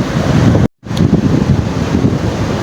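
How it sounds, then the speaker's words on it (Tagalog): Heavy northeast monsoon wind buffets the microphone in a constant roar at night, broken by a brief cutout near the start, with a surf-like wash underneath. "hindi pa nagkalma yung hangin"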